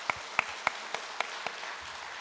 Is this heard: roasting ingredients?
no